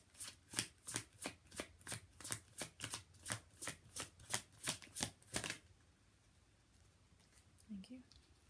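Oracle cards being shuffled by hand, with about fourteen evenly spaced riffling swishes, close and soft, then a brief quiet rustle as one card is drawn.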